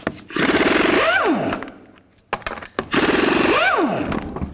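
An impact wrench on a 22mm socket zips lug nuts off a GMC Yukon wheel in two loud close bursts, each rising and then winding down, with clicks and a short pause between them.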